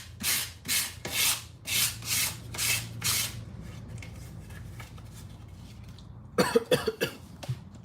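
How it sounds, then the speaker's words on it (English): Hand sanding of burrs off a wooden picture frame: six rhythmic rasping strokes in a row, then a quiet gap, followed by a short burst of rough rubbing and coughs near the end. "First, I want to sand this down, actually. Just a quick, I just want to take off some of these little burrs."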